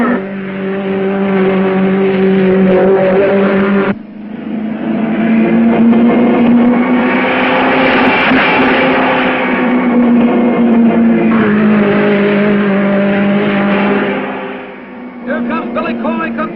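Race cars roar around a speedway track, a loud sustained engine drone that swells and fades as they pass, with brief dips at the lap changes and a commentator's voice over the noise.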